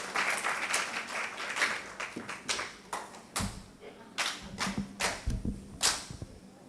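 Scattered, uneven clapping from a small conference audience after a presentation ends, with distinct individual claps rising and fading.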